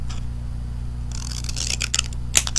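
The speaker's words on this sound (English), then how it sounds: "what we're going to do is just cut this piece in half lengthways" Scissors slice lengthways through a strip of paper in short crisp snips, close and fairly quiet over a steady low background hum, with a few sharper clicks toward the end.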